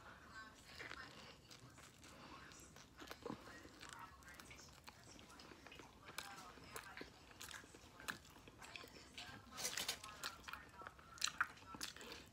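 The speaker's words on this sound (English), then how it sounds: "So you gotta really chew it." Chewing a thick steak torta: close, moist bites and crunchy mastication in irregular bursts, growing louder toward the end, with soft whispery breaths in between.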